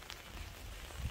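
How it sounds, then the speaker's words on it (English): Brief patter of rain striking a large vehicle-mounted ARB awning nearby while camping in Vermont, a soft, steady spatter with a low rumble underneath. "it is still raining"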